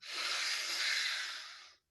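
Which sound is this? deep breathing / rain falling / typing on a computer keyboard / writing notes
deep breathing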